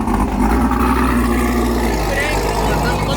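A Hyundai Veloster runs on an airstrip drag race, its engine a loud steady drone with rising tone under talking voices.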